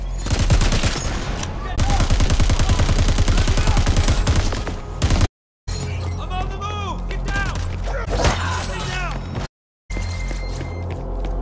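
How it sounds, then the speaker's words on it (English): Dense bursts of automatic enemy gunfire in the shooter game Crackdown 3, rapid and loud, with chattering volleys broken by two short silent gaps and scattered impacts and effects between them. "Watch the enemy fire."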